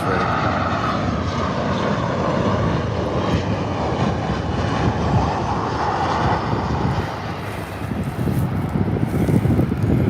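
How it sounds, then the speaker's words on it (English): A Virgin Australia airliner approaching runway 23 at Adelaide Airport, its jet engines producing a loud continuous roar with wind buffeting the microphone throughout. "There's Virgin Australia, the first Virgin aircraft here at the moment. Approaches runway 23."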